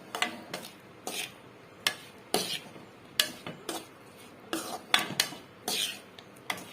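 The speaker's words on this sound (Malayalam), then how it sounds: "നന്നായിട്ടൊന്ന് ഇളക്കി ചേർത്ത് നമുക്ക് യോജിപ്പിച്ച് എല്ലാം കൂടെ യോജിപ്പിച്ചൊന്ന് കൊടുക്കാവേ" Mango pickle with spices being stirred in a pan: repeated sharp metallic scrapes and clinks of a spoon against the pan in an irregular rhythm, close and fairly clear, with no talking.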